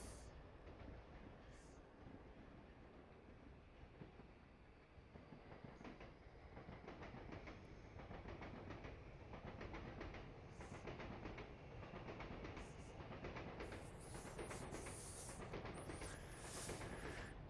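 Simulated trains rumble steadily in the railway management game Nimby Rails, a continuous clattering roll of wheels on track with occasional brighter squeals, moderately loud and unbroken throughout.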